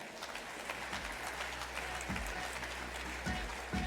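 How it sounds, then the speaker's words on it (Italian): An audience claps as an Italian education minister walks onto a stage, a sustained and even round of applause with a few low thumps from the stage partway through. "Un bel applauso."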